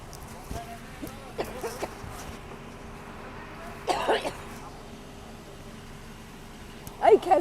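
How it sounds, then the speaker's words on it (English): A person coughs and clears a lingering cough outdoors on Karangahape Road in Auckland, a few short bursts spread across the stretch with faint street background between them. "This cough is lingering from all the talking we did last week."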